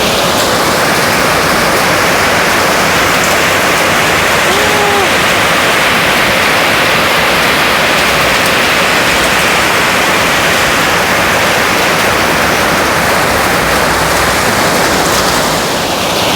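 Heavy rain pours steadily through the night, a dense, loud, unbroken wash of noise that fills the whole stretch with no pauses and no voices.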